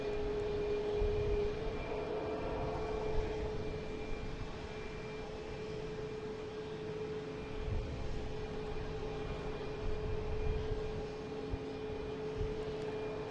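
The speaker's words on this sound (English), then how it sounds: "We got an American here taking off, heading to LAX, an A321." An American Airlines Airbus A321 taking off at an airport, its jet engines a steady, fairly distant roar with a faint whine, holding level and continuous throughout.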